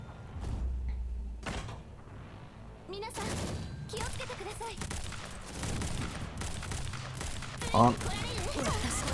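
Rifle squad gunfire in the video game Girls' Frontline arrives as loud, sharp volleys of shots. They are spread through the stretch among other clanks and impacts of battle, with a brief louder burst near the end.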